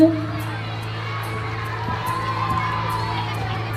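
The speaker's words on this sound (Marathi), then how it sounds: "टाळ्या वाजवा" Primary school children at a skills event in Indapur cheering and shouting as a crowd, a steady noisy din with a sharp burst at the start and a low constant hum underneath.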